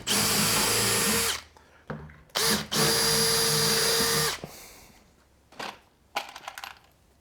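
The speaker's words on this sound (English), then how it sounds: "self-drilling countersink bits with a depth adjuster, and it just leaves a nice countersink hole" Self-drilling countersink bit with a depth adjuster boring into melamine flatpack cabinet panel: two loud, sustained power-drill runs of a few seconds each, followed by quieter clicks and handling noises.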